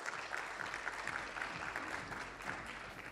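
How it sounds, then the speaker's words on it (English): An audience at a marketing business talk applauds steadily, a dense, even wash of clapping heard from some distance, fairly quiet and continuous throughout. "could we give the team and Nate and the rest of the crew a round of applause for putting this on for us"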